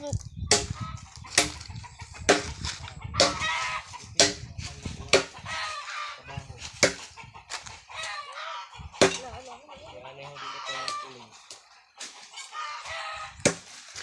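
Chickens cluck and squawk nearby in short, irregular bursts, with faint voices and scattered knocks in the background.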